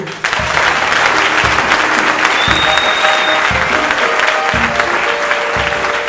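A church congregation applauds for Jesus in steady, loud, sustained clapping from a crowd, with some voices mixed in beneath it throughout.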